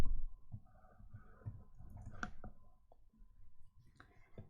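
Computer keyboard keys tapped a few at a time while entering a number into a Python program, giving soft scattered clicks close by in a quiet room.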